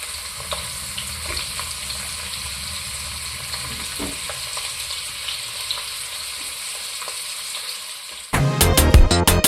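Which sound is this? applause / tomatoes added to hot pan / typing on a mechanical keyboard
tomatoes added to hot pan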